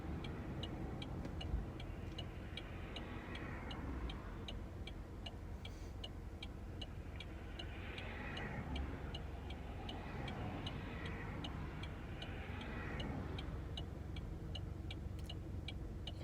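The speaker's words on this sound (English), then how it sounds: "You can kind of hear the engine running a bit." Idling while stopped, a Saturn Ion car engine gives off a faint low hum, with a rapid regular ticking throughout and a few soft passing swells.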